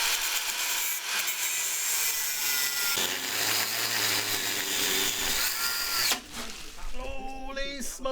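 Power tool running in a workshop during a Jeep TJ TDI engine swap build, a loud continuous grinding whine with shifting pitch, then scraping and sharp squeals near the end.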